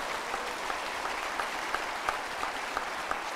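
Steady applause fills an investiture ceremony for a bank president, honouring the bank staff, the president and his team, a dense, even clapping crowd with a few sharper claps standing out and no talk over it.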